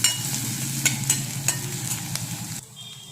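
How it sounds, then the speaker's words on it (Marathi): Onion, garlic, mustard seeds and cumin fry in a pan with a steady sizzle, broken by a few sharp spatula scrapes and taps, before the sound drops off abruptly near the end. "लसूण मोहरी घेतली, हे जिरं, हा कांदा, तो कांदा असा फ्राय करून घ्यायचा, लाल होतो."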